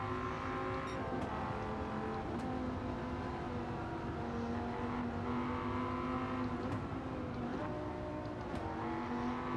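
A Dodge Viper GTS-R T10 coupe engine in Gran Turismo 7 drones steadily at high revs during a race on Tokyo Expressway, with small shifts in pitch and no talk.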